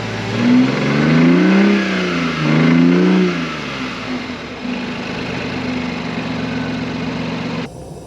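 A BMW i8's 1.5-litre three-cylinder engine revs up twice in quick bursts, then settles back to a steady idle, close and fairly loud.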